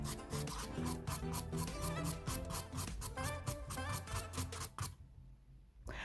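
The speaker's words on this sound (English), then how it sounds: "hand filing is a really good way to bring back that shape" Hand filing the nails of a practice hand, a steady run of quick rasping strokes at close range, fairly soft, that stops briefly near the end before resuming.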